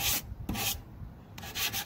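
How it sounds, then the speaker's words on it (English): Sandpaper scrubs rust off a vintage children's desk in three quick, close strokes, each a bright rasping hiss separated by short pauses. "Right now I'm just sanding off all of the rust"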